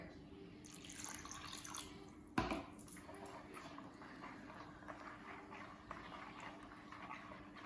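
Water is added to tahini and stirred in, giving a wet, squishy mixing sound with faint drips and one sharper splash near the middle, close and fairly quiet, with no talking.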